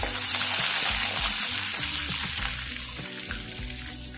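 Curry leaves sizzle in hot frying oil, a steady close crackle and hiss that eases slightly toward the end.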